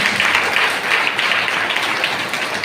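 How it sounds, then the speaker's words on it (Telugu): A church congregation at a Sunday service applauds loudly, a dense, steady wash of clapping that holds evenly throughout. "చప్పట్లు కొట్టండి గట్టిగా."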